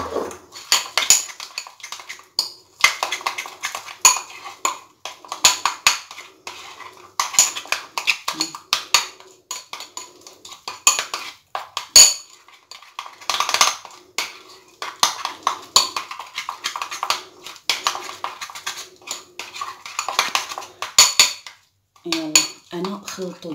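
A spoon clinks and scrapes repeatedly against a bowl while stirring a homemade face mask mixture, producing irregular bursts of metallic tapping, with a brief voice near the end.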